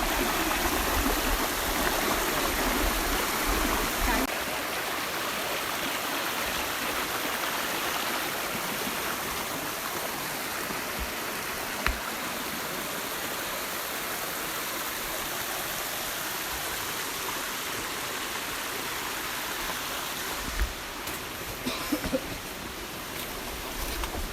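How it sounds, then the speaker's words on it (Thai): A waterfall and flowing stream on a forest trail make a constant loud rushing roar, steady throughout with faint clicks and no talk. "แต่น้ำตกที่นี่สวย ใช้ได้นะครับ"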